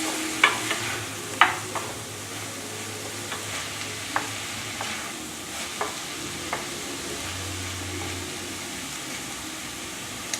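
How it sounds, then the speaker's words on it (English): Mince seasoned with cayenne pepper is stirred in a pan, with a soft continuous sizzle and scattered light scraping clicks from the utensil, close and fairly quiet. "And then we're going to add a bit more of cayenne pepper. Give that another stir."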